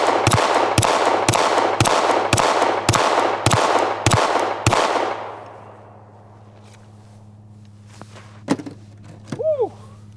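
A Glock V pistol fires about ten evenly spaced, loud, close shots at steel targets outdoors, each crack followed by a ringing tail, then the shooting stops and a few faint clinks and a brief whoop-like voice follow.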